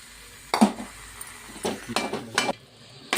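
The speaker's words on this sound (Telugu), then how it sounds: "ఇదంతా కలుపుకొని మసాలా అంతా దీన్ని పట్టేటట్టు మిశ్రమానికి కలుపుకోవాలి" Potato samosa filling with masala and peas is stirred in a pan, giving a few short, close bursts of scraping and clinking with quieter pauses between them.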